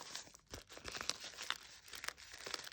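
Crinkly paper snack bags handled up close, giving quiet, repeated crisp crackles and tearing rustles in short bursts, with no voices.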